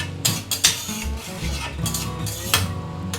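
A spoon stirs oyster mushrooms and potatoes in a pan over low flame, making close, scraping rasps and clinks in irregular strokes, with louder scrapes near the start and end.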